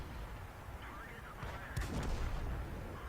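A tank cannon shot in World of Tanks, fired from an AMX 12 t, booms once midway through a busy, rumbling battle soundscape.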